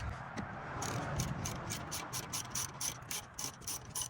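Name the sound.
ratchet with 13mm socket removing brake caliper bolt, Ford F-150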